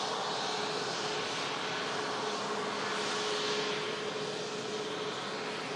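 Smartlynx aircraft taxiing off the runway at Manchester Airport, a steady whining engine roar with a sustained tone, moderately loud and unbroken, with no speech.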